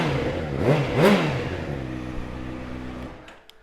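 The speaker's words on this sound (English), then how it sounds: "Let's give it a quick fire up." A 2009 Honda CBR600RR sport bike with an Akrapovic exhaust fires up, throws out a couple of sharp revs, and then settles into a steady idle before cutting off. The sound is loud and close.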